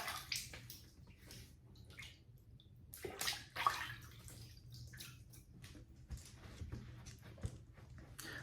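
Running water splashed onto the face before a shave, heard as soft, irregular sloshing and splashing with a faint steady flow underneath, fairly quiet and close.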